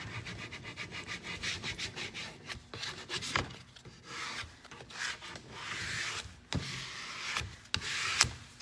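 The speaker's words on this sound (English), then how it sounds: "I'll squeegee it there and then you can see that it's got stuck down" A squeegee is pressed and dragged across a stencil laid on wood, making repeated scraping, rubbing strokes with small bumps and taps, close and fairly quiet.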